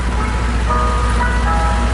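An ice cream truck's melody plays loudly and continuously over a steady rumble of engine and traffic.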